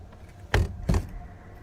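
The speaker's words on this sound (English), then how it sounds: "he bangs loudly on the window of his truck" A man bangs loudly on the window of his truck while camping, two sharp, heavy thumps about half a second apart, close and distinct over a quiet background.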